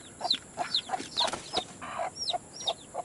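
Rhode Island Red mother hen clucking in short, regular bursts, close and fairly clear, with brief chick peeps between the clucks and no talk.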